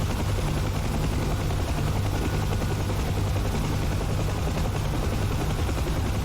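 Bell UH-1 Huey helicopter in the DCS flight simulator, a steady, dense, loud rotor and turbine roar that fills the whole stretch without a break.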